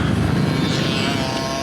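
A motocross dirt bike runs on the Perris Raceway vet track, its engine a loud, close, continuous buzzing drone with slight pitch wobble.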